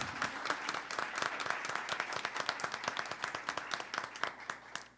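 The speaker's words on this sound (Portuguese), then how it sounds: "Palmas para as nossas queridas mestras." An audience applauds the teachers at a Jane Austen celebration event, with steady, dense hand clapping from a crowd, fairly faint and distant, with no talk over it.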